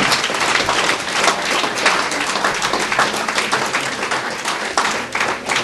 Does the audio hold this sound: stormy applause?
yes